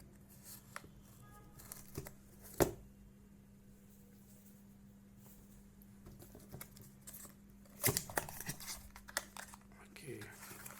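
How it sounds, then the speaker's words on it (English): Packing tape is torn from a Mi Band 4 fitness tracker box in two short, crackly bursts separated by a quiet stretch. Soft rustles and handling of the packaging sound close by. "let me open it up and see what's inside the box. Okay, we have a tape here."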